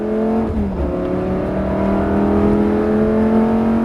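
A car engine revs steadily higher in pitch, a sustained close mechanical drone as the vehicle accelerates hard on the Nogaro race track.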